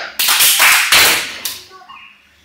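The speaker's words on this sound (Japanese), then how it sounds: "動丸拍手3回" Three loud, sharp hand claps ring out in quick succession during a classroom lesson, each burst decaying briefly before the next, with faint voices lingering afterward.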